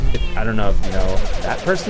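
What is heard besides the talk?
old cat meowing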